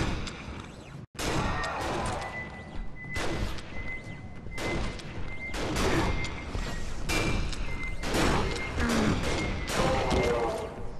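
Heavy enemy gunfire and crashing impacts in the Aliens vs Predator video game, a dense, continuous barrage of loud blasts and thuds lasting several seconds with barely a pause.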